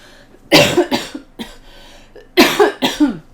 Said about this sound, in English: wish this cough would go away